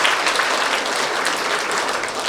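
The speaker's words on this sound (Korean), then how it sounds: "다시 한번 여러분들을 위해서 박수 한번 부탁드리겠습니다" A crowd at a campaign office opening for a Daegu education superintendent candidate breaks into loud, dense clapping, steady throughout the brief moment.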